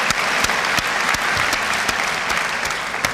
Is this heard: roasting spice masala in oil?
no